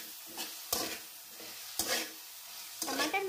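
Potato and eggplant curry being stirred in a pan, a few distinct scraping strokes of the spoon over a soft sizzle of frying, close and fairly quiet.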